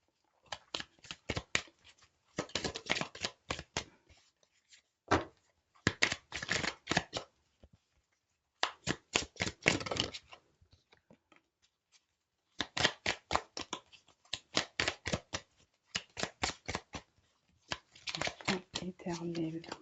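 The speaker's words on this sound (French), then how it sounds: "on va prendre le tarot des mondes sauvages inconnus pour commencer avec 3 cartes" A tarot deck is shuffled and handled in rhythmic bursts of crisp riffling card clicks, separated by short pauses, close up and fairly quiet.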